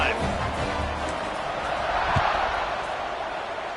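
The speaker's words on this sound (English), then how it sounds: "this crowd is feeling themselves after that last drive" A football stadium crowd roars steadily after a touchdown on a long drive, a dense, far-off wall of cheering with a faint thump partway through and no clear voice over it.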